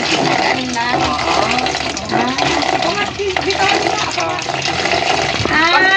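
Water runs from a pipe in a steady, close gushing splash that goes on throughout, with people talking over it.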